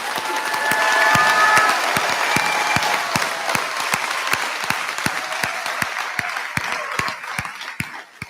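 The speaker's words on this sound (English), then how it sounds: "Let's have a round of applause for all of our graduating seniors." Sustained crowd applause for graduating seniors at a high school graduation ceremony, dense and steady with some louder individual claps standing out, tapering slightly near the end.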